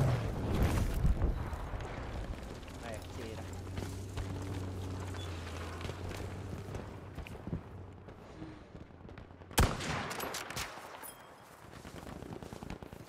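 Gunfire in the video game Battlefield V, with a rapid burst of shots at the start and a sharp loud crack near the end over a low rumbling battlefield background.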